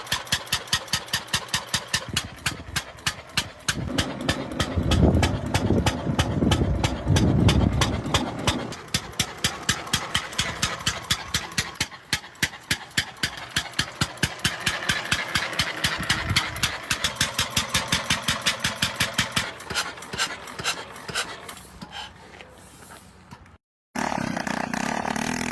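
A classic early Mercedes car engine chugs in a steady, rapid rhythm of sharp exhaust pops, loud and close, with the firing pace wavering slightly before a brief cutout near the end.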